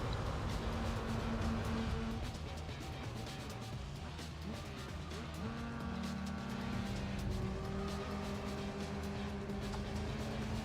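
Race cars in Gran Turismo 4, with several engines droning and shifting pitch as they race, and tire squeal and passing whooshes at moderate volume throughout.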